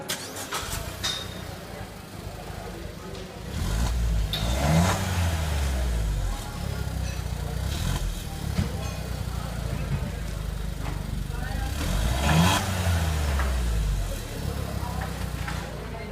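A Maruti Suzuki Baleno RS engine starts up a few seconds in, then idles and is revved hard twice in loud, rising bursts. People talk nearby throughout.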